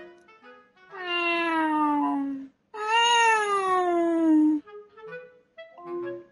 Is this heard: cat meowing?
yes